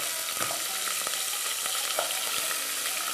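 Meat sears in a pan, browning on all sides, a bright steady hiss of frying fat with faint scraping ticks, close and continuous.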